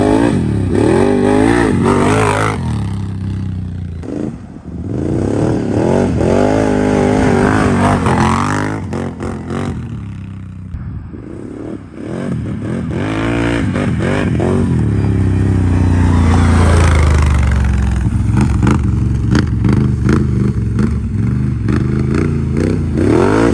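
A 2019 Can-Am Outlander 1000 XXC ATV engine revs repeatedly, loud and close, rising and falling in pitch through several throttle blips and longer pulls with a rough, throaty roar.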